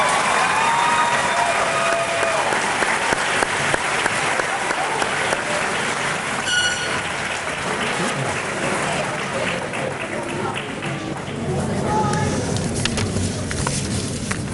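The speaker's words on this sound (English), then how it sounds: "Let's give one more round of applause to all of our graduates." Sustained applause from an audience at a 2019 middle school graduation ceremony, steady and dense throughout with a few faint cheers and some background murmur.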